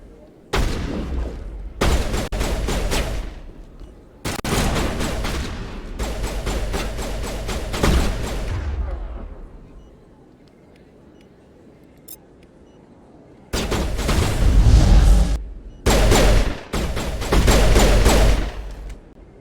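Sci-fi gunfire in Mass Effect: loud, close bursts of rapid automatic shots in several long volleys, separated by short pauses and a quieter stretch with a faint low hum.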